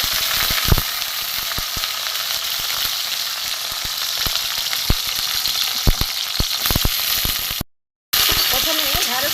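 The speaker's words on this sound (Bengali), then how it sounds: "প্রথমে ঢ্যাঁড়সটা আমি ভেজে নেবো, লাল করে একটু ভেজে নেবো" Okra fries in mustard oil in a wok on a gas stove, producing a steady loud sizzle punctuated by sharp spatula knocks against the pan, with a brief dropout near the end.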